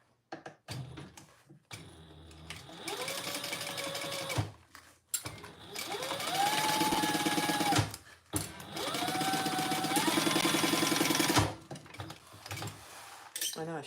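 Home sewing machine stitching in bursts, its motor whining up and down over several runs separated by short pauses, close and clear with brief talk in between.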